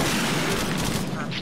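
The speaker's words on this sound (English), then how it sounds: "Back blast, rocket." Rocket launcher firing during a military field training exercise, a loud dense roaring blast that fills the whole moment, with voices mixed in.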